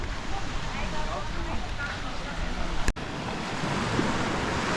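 Surf washes steadily onto the beach at Maya Bay on Phi Phi Island, a continuous broadband rush with wind buffeting the microphone and a brief thump partway through, under people talking.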